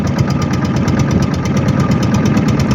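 A river steamer boat's engine runs steadily nearby, a loud, even, throbbing rumble with a fast regular knock and no gaps.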